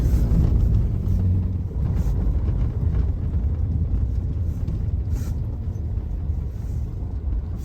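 A T-170 tractor working a field with a harrow during spring fieldwork, giving off a loud, steady, deep engine rumble that continues throughout with slight wind buffeting and no pauses.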